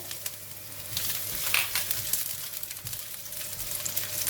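Ginger thrown into a hot pan for a mushroom stir-fry with enoki mushrooms and goji berries, giving a steady, close crackling sizzle that runs throughout with small splattering pops and no talk.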